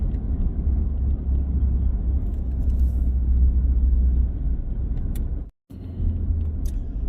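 A Ford truck rolls down the road with a steady, loud low rumble of engine and tire noise from inside the cab, briefly cutting out near the end before resuming.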